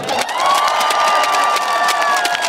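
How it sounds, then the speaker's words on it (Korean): Outdoor crowd at a cherry blossom festival concert in Imsil claps and cheers loudly, with dense clapping and sustained shouted cheers filling the whole moment. "우리 희랑별님도 박수 한 번 해주세요"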